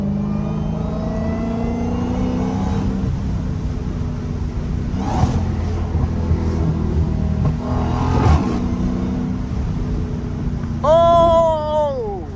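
A Dodge SRT Hellcat engine rumbles and revs steadily under a constant drone, with a rising whine sweeping upward near the end; voices talk faintly in the background.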